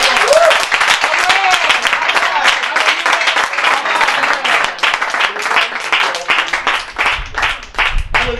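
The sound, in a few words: congregation applauding the king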